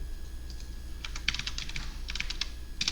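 Quick bursts of typing on a computer keyboard, close and crisp clicks in uneven clusters over a low steady hum, no voices.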